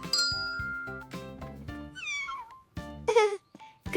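Pet cats travelling with a family, settled into the car before an airport trip, let out a few drawn-out meows, one midway and a louder cluster near the end, over a steady tonal background.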